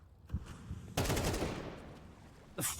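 AK rifle fire in a Counter-Strike 2 match: a few scattered shots, then a louder sustained burst, and another shot at the end, all fairly faint with no speech.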